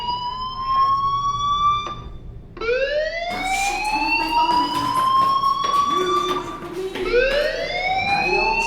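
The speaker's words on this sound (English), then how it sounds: "do you hear that fire alarm?" A fire alarm wails in the video game Life Is Strange, a loud rising and falling electronic siren tone that sweeps repeatedly and fills the whole stretch without pause.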